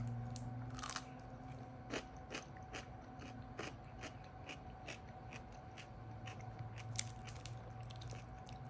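Crunchy pickle bitten during a road-trip taste test, heard as a series of sharp, close crisp crunches recurring roughly once a second over a steady background hum, with no talk.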